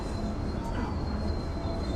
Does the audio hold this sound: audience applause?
no